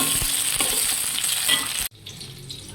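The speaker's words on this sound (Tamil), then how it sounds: "தக்காளியை சேர்த்து வதக்குறோம்" Tomatoes sauté with onion, curry leaves and green chilli in a pan for duck curry, giving a loud, close, continuous sizzle with stirring scrapes. Partway through it cuts abruptly to a quieter, softer sizzle.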